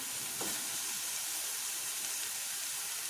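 Cornmeal and sardines sizzling in a pot, a steady bright frying hiss that holds evenly throughout with a faint clink near the start.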